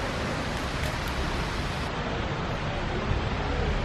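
A water fountain in a small town square in Peru, built like a small waterfall, gives a dense, continuous rushing splash that is close and loud throughout, with no pauses.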